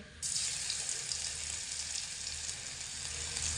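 Garlic paste hits hot oil left from frying fish and bursts into a sudden bright sizzle that holds steady and close, with no voices over it.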